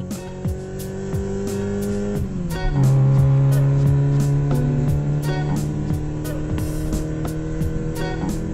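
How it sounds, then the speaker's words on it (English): A taxi car's engine hums with a steady tone that drops and settles lower partway through, accompanied by regular light ticking, with no voices. "Taxi."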